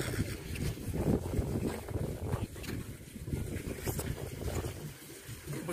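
A steady motorboat engine drones on, mixed with rushing water and wind buffeting the microphone, with no voices.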